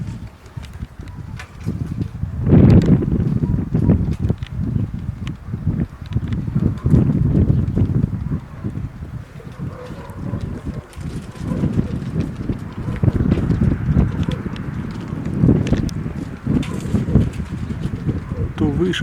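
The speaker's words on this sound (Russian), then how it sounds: "Сейчас хороший плотный ветер сегодня." Strong, dense southern wind buffets an open outdoor spot where young pigeons are being flown, producing continuous gusty roaring and rumble over the microphone, with someone talking throughout.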